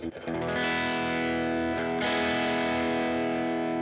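Electric guitar through an Electro-Harmonix Hot Wax dual overdrive pedal, Crayon side engaged, drive at 12 o'clock: gritty, saturated chords strummed and left to sustain, with a second chord struck partway through.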